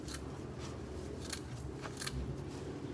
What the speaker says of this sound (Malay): Korang gunting je macam ni.